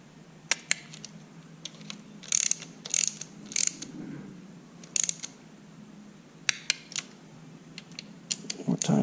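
A torque wrench ratchets while bolts are tightened during assembly of a 2014 Ford F550 V10 engine, giving quiet, sharp clicking bursts in short irregular runs over a faint background hum.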